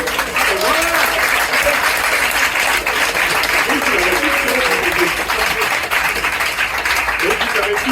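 Audience applause at a stand-up comedy show, a sustained loud wash of clapping from a full room that holds steady throughout with scattered voices underneath.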